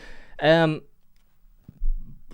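A single loud, throaty burp rises and falls at the start, followed by quiet low thumps and rustling.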